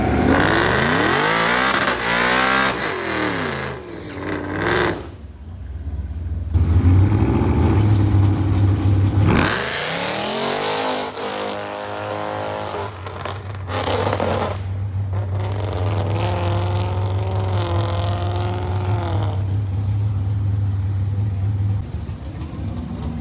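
A Whipple-supercharged 2018 Mustang GT500 makes a drag strip pass, its engine roaring loud and near through rising revs, gear changes and a long sustained pull, with the supercharged howl droning throughout and no talking.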